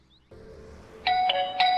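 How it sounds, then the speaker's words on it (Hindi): A doorbell chimes indoors in a TV drama scene, ringing twice in bright ding-dong tones over a low room hum, with no speech. "लो घंटी बज गई।"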